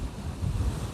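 Wind blows hard on a North Wales sea shore at night, a dense, continuous low roar of buffeting against the microphone that lasts the whole short moment.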